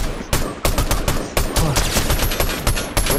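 A bot opens fire in Fortnite Zero Build, the video game, with loud, close, rapid bursts of gunfire that crack out repeatedly in quick, uneven succession.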